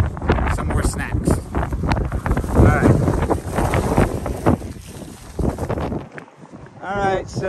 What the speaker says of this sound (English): So yeah, we're gonna go escape this wind.